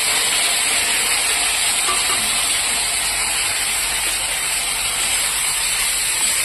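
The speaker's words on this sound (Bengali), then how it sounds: "প্রথমে আমি এই ভেজিটেবলগুলো দিয়ে দেবো কড়াইতে।" Steady, loud sizzling and hissing of vegetables frying in hot oil in a wok, continuous and close, with no voices.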